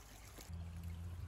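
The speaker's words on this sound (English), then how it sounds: "the streams both do their job and transport water down into the small pooling area." Water trickling along a small DIY solar-pumped garden stream toward a pooling area, a continuous soft burbling wash with a low gurgle entering partway through, close and quiet with no voices.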